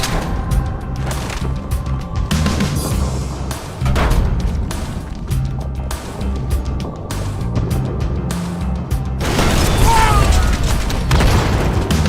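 Grenades exploding in the video game Halo 2 amid continuous gunfire and game action: dense, loud booms and thuds layered over a constant roar of combat.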